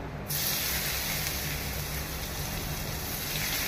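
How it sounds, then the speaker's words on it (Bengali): Chopped garlic sizzles in hot oil with panch phoron and a dried red chilli in a home kitchen, a loud, steady broadband hiss that flares up abruptly and holds without a break, with no talk over it. "রসুন কুচি দিলাম।"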